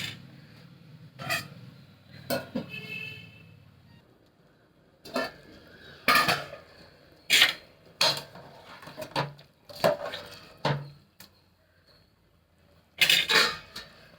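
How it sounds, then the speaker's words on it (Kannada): A metal pressure cooker lid is closed over tomato bath, making a string of sharp, close metallic clanks and knocks at an irregular rhythm, with quiet pauses between them. "ಮರಳಿದ ಮೇಲೆ ಕುಕ್ಕರ್ ಮುಚ್ಚಳ ಮುಚ್ತೀನಿ."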